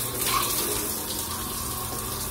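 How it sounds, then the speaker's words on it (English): Shower water runs steadily into a bathtub and drains freely after a blockage was cleared, a continuous close splashing hiss with no voices. "Because now look at this shower. It's working like a champ."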